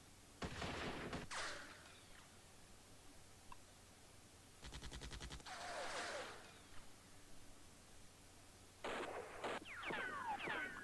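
Gunfire from a machine gun section in the East Front 2 hex-based wargame, heard as several short bursts of rapid cracking shots separated by quieter pauses, fairly close and loud with no talking.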